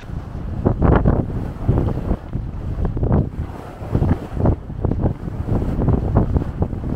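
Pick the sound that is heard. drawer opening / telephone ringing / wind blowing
wind blowing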